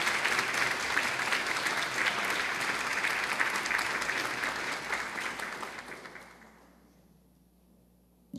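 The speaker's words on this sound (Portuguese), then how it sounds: "uma salva de palmas a todos os representantes das escolas municipais" Audience applause at a school merit ceremony honouring municipal school representatives, sustained loud clapping from a crowd for about six seconds before it fades to quiet.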